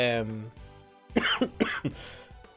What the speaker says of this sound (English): Where's this cough come from?